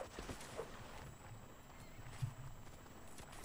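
Horse cavalry in a video-game line battle gallops with dense, continuous hoof clatter and faint neighing, mixed into a busy, muffled battlefield din.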